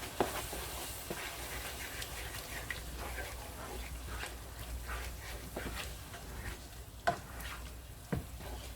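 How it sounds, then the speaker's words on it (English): Flour being stirred into Jamaican beef patty filling with Scotch bonnet in a pan, giving a steady soft sizzle broken by scattered scraping and tapping strokes of the spoon, close and moderately loud with no talking. "Just sprinkle some flour over the top and mix it in"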